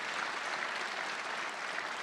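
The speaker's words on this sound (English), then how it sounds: "Let's have a round of applause again for Paul and Ellen" An audience at a college-campus free speech event claps continuously, a thick, uniform patter of many hands sustained at moderate loudness without any voices.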